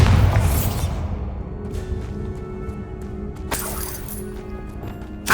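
A Bombarda blasting spell cast in Hogwarts Legacy inside a Moonstone hideout: a deep boom at the start that fades into quieter ambience, with a later sharp crash and another thump at the end.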